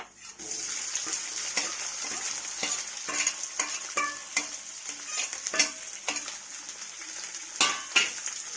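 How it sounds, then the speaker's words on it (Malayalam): Onion, carrot and green chili sautéing in a pan, a close, steady sizzle broken by repeated scraping strokes and sharp clacks of a spoon stirring, with no speech. "ഇപ്പം വഴറ്റുമ്പോൾ നമ്മൾ ഉള്ളിയും ക്യാരറ്റും പച്ചമുളകും കൂടി ഇട്ട് വഴറ്റാം"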